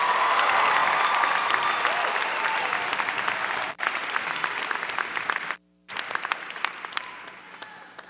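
Dense, sustained clapping from a graduation audience at a high school ceremony, loud and continuous for about eight seconds with two brief gaps, one near the end almost fully silent before the clapping resumes.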